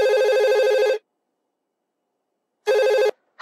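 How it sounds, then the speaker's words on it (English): A telephone rings in a home with a warbling electronic tone, two bursts separated by a silent gap, loud and close with no voices. "no último sábado o meu telefone não parava de tocar. Eu gravei para vocês ouvirem."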